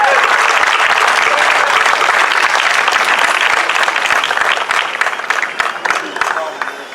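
A large crowd at the BAMFEST music event breaks into loud, sustained applause, dense clapping filling the whole stretch before thinning slightly toward the end.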